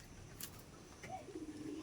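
A Madras pigeon gives a faint, soft coo near the end, low and brief against quiet background noise.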